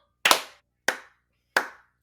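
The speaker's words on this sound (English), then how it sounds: "Clap." Three sharp hand claps, spaced evenly about two-thirds of a second apart, each ringing briefly before silence.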